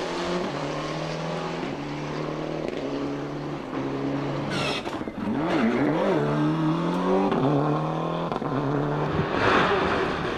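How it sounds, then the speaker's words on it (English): Ford Escort Cosworth rally car racing on a stage at a 2001 rally, engine loud and near, with repeated rising revs through gear changes and a sharp snarl as it passes. "Then it's the McLaughlins, who are performing in their home city in their Cosworth."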